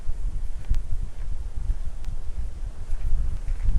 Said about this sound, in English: we're out here today, and it's really, really windy